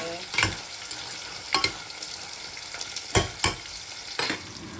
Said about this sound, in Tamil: கொஞ்சம் கொதிக்க விடுவோம்.